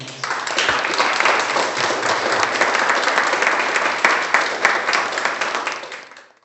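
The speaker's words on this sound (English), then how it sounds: "Could we all give them a round of applause tonight?" A lecture-series audience gives a round of applause for the co-moderators, a full, sustained burst of many hands clapping that holds steady before fading away at the end.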